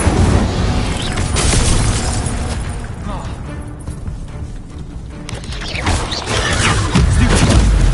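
Incendio fire spell blasts in Hogwarts Legacy, loud crackling bursts and crashes of combat that dip briefly and then surge again, mixed with dense game noise and voices.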